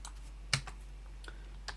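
Typing on a computer keyboard while coding, a few sparse, quiet key clicks spread out over a low steady hum, with no talking.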